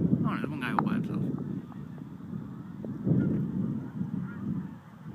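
Geese on Long Island honking in a flurry of loud, nasal calls at the start, then quieter scattered honks, while a person talks nearby and wind brushes the microphone.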